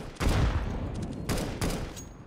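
A decoy grenade in a competitive shooter video game mimics gunfire, giving out a few loud, separate rapid bursts of shots with short gaps between them, close by and with no talk over them.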